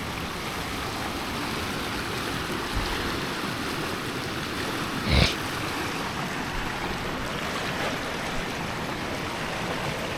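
A deep river in a Kenyan forest rushes steadily, a constant full wash of flowing water with one brief knock partway through; no voices.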